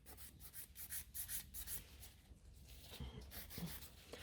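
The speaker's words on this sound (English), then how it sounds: "I'm really filing extremely slow" Gel nail extensions being filed very slowly: soft, rhythmic rubbing strokes that rise and fall in a steady pattern, close and quiet, no talking.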